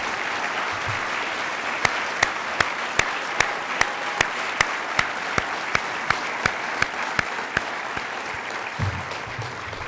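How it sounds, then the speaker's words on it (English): Audience at an air safety forum awards banquet applauding steadily, a dense, even wash of clapping with a few sharper claps standing out, heard from within the room and without talk. "And please do not hold your applause."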